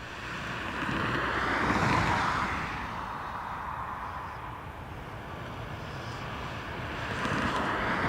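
An ATR turboprop aircraft arriving from Liverpool at Dublin Airport drones at a moderate distance, its engine noise rising and falling gently under some wind noise.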